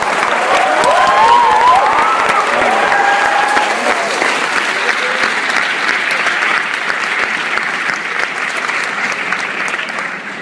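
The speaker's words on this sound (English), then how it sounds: "please join me in giving Dr. Massey and Mr. Lucas a large round of applause" A large crowd at an art school conversation event gives a loud round of applause for Dr. Massey and George Lucas, with some cheering and a voice speaking over it early on, the clapping fading gradually.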